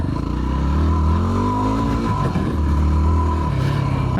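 Stock Yamaha WR250R dirt bike with engine protection, its engine droning and revving steadily on MX trails, loud and close throughout with rising and falling pitch and no talking.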